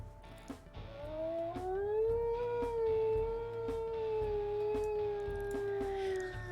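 Wolf pups in WolfQuest Anniversary Edition howl in a long, rising and gently wavering tone that holds steady for several seconds, clear and fairly close over a soft background.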